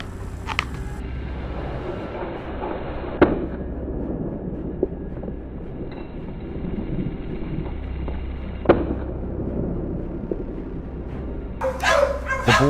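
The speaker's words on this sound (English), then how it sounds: "I suddenly heard the sound of barking grow louder." Dogs barking during a wild boar hunt, the barks blending into a dense outdoor din with a few sharp cracks, steady and moderately close, with louder clustered yelps near the end.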